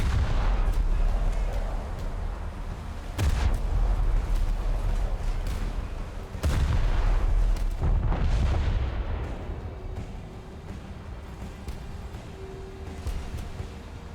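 Bofors anti-aircraft guns firing aboard a US treaty cruiser in a naval video game, heavy booming reports and rumbling blasts in a dense barrage, with a few sharper bursts standing out before the fire fades.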